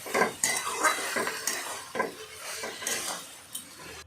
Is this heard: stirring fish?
yes